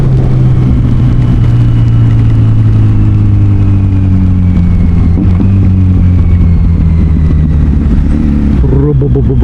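Kawasaki Z900SE motorcycle riding on a wet road, with a steady loud engine drone and shifting rev tones under continuous wind and road noise, close to the rider throughout.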